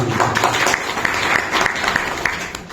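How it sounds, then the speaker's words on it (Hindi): Applause from an audience at a direct selling network marketing business talk, broad steady clapping filling the whole moment at moderate loudness, with no voices over it. "तो हम चाहेंगे हमारी पत्नी के लिए जोरदार ताली होनी चाहिए,"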